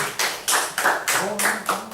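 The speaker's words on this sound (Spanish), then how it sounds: "Denle un aplauso al Señor por nuestro hermano Ulises" Church congregation clapping in rhythm to welcome a new member, steady bursts of hand claps repeating about every half second, fairly close and loud, with a faint tonal voice or music underneath.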